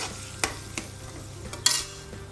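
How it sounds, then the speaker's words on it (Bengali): A spoon stirs minced beef bhuna in a pan over medium heat, with quiet scraping and a few light metallic clicks against a faint sizzle, no talking. "এখন আমি নাড়াচাড়া দিচ্ছি চুলার আঁচ মিডিয়াম করে"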